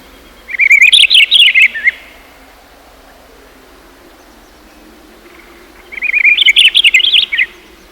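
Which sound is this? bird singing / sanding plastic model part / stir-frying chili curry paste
bird singing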